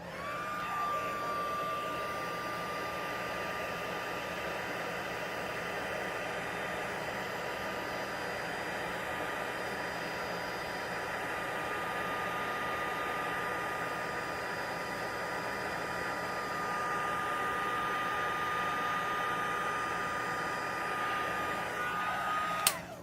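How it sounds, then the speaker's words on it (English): A heat gun blasts steadily on foil being tarnished for a craft technique, a continuous loud whooshing roar with a faint high whine that holds unbroken for over twenty seconds before clicking off at the end. "back to the heat gun"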